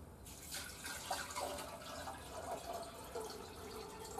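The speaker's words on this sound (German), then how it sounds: "dann fülle ich Wasser ein." Water poured into a vase holding a flower bouquet, a close, fairly quiet steady trickle and splash that shifts in pitch as the vessel fills, with no voices.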